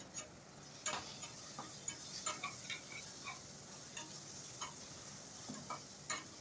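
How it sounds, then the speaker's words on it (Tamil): Tomato and onion sauté in a pan for chicken biryani with a steady soft sizzle, and spoon or spatula scrapes and clicks fall at irregular intervals. "இப்போ நம்ம தக்காளி வெங்காயத்தோடய நம்ம போட்டு வதக்குறப்போ கொஞ்சம் நல்லா கலராக நல்லாயிருக்கும்"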